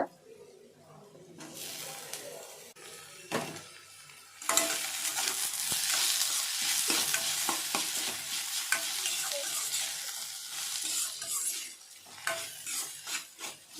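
Onions sautéing until golden in a pan for a brinjal and drumstick stir-fry. A quiet start gives way to a loud, steady sizzle from about four seconds on, with scraping stirs and clinks of a spoon against the pan.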